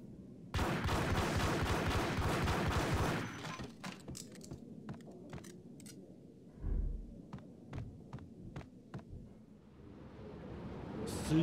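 Shotgun fire in a video game, a dense burst of heavy blasts for several seconds, then scattered single sharp reports and thuds with quieter gaps between them.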